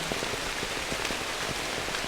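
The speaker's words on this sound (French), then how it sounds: "Ça, c'est la pluie." Steady rain falling on a surface, a dense, even hiss with scattered droplet ticks throughout, close and continuous with no voices.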